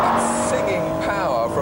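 A 1990 Honda NSX sports car's high-revving engine rises in pitch with rising harmonics, loud and close, while someone talks over it.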